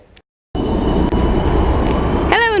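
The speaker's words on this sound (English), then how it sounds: "we're now going to take the tram a couple of stops in that direction" A Budapest tram runs loud and close with a steady rolling rumble that starts abruptly after a brief quiet gap, and a rising squeal from the wheels or brakes comes in near the end.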